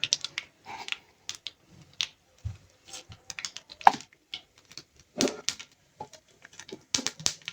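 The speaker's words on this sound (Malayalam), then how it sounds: "കടുക് പൊട്ടിച്ച് നമുക്ക്" Mustard seeds crackle and pop in hot coconut oil in a pan, scattered sharp little bursts coming close and fairly loud in quick irregular runs, with no talking.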